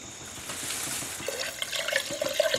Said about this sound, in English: I'm just going to pour some in the gun here